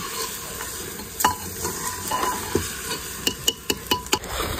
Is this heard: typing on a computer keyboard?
no